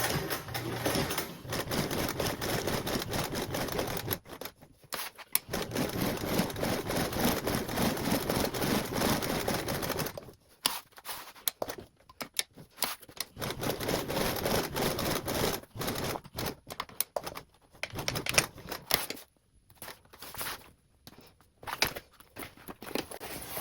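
A sewing machine runs bursts of steady, rapid stitching on a tote bag, a second row set an eighth of an inch from the first, with short pauses between runs.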